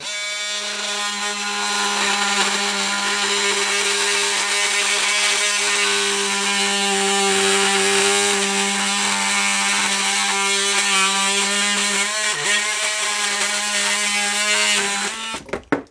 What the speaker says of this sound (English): I'm going to start out with a wood blade.